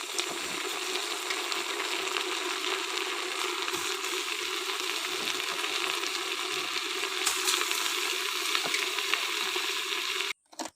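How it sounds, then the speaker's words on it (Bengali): Washed rice and lentils going into browned chilies and onions in a pressure cooker for khichuri, giving a dense, steady hiss of frying that holds evenly for about ten seconds before cutting off abruptly. "তখন আমি তাতে দিয়ে দেব ধুয়ে রাখা চাল এবং ডাল।"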